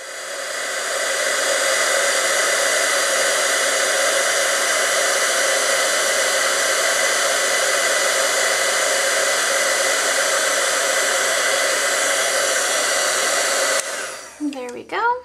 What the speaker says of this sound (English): Then we'll bring our heat tool over.